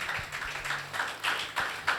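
A church congregation claps together in a steady, rhythmic beat, the sharp claps repeating evenly at a moderate distance with no talking over them.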